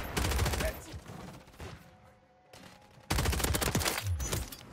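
Rapid bursts of AMR-9 SMG fire in Modern Warfare 3, loud and close, split by a short near-silent pause, then a renewed burst of shots in quick succession.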